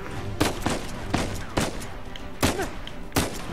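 Gunfire in the action video game Uncharted 4: about six separate loud shots spaced unevenly, each a sharp crack with a short tail, over a low background rumble.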